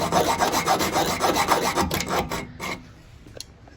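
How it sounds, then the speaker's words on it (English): A hacksaw blade cuts through a stripped screw on a Porsche 911, heard up close as a steady, rapid rasping of back-and-forth strokes that slows and stops near the end, followed by a few faint taps. "I'm gonna cut it with a hacksaw"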